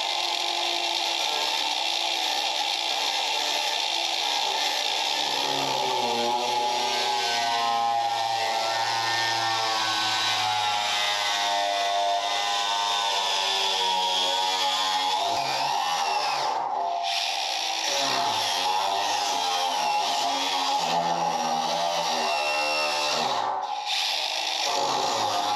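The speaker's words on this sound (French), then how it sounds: "une petite meuleuse à batterie" Parkside cordless battery angle grinder running steadily: a loud, continuous close-range whine with a couple of brief dips in speed, and no talking.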